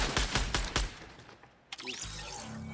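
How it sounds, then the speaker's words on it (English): Gunfire in the video game Fortnite, rapid bursts of loud automatic shots followed by a brief lull and more distant game sounds. "And that's how loud gunfire used to be."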